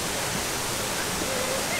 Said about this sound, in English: It's right by a waterfall.